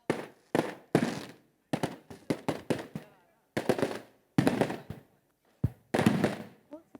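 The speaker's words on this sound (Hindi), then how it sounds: "आतिशबाजी की जा रही है" Sharp bursts of New Year fireworks over Lahore crackle and pop in rapid clusters, separated by short silences, sounding fairly close.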